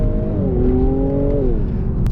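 A 2018 Infiniti Q60 Red Sport 400 pulls hard in first gear, its engine note loud and close, with the pitch climbing and then holding steady in a continuous roar.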